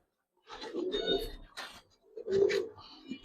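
Pigeons held by hand at a pigeon seller's coop give soft, throaty coos in two close phrases separated by a brief pause, heard near and fairly quiet.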